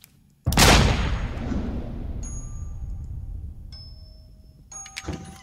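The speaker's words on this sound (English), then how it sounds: "See how fast I shot that gun?" A single loud gunshot on a Carnival cruise ship cracks sharply after a short quiet lead-in, then decays into a long rumbling echo, followed by faint clinks and a brief thud.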